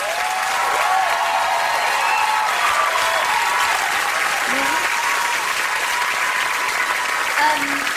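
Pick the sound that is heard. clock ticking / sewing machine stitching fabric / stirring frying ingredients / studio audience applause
studio audience applause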